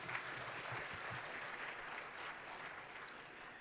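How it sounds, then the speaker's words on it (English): Audience applause at an academic colloquium, a steady wash of clapping hands lasting a few seconds at moderate, fairly distant level with no talk over it. "Can we give them another round of applause,"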